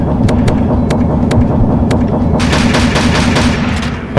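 Rapid automatic gunfire in Pixel Strike 3D, a full magazine emptied in loud, continuous bursts that intensify into dense overlapping shots before stopping.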